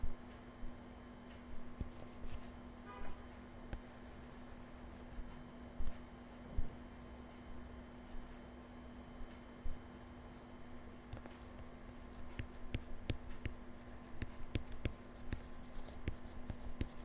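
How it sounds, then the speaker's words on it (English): Pen or marker writing out algebra equations for elimination and substitution methods, a faint scratchy patter of strokes over a steady low hum, with quiet taps and pauses throughout. "Now let me write it down over here."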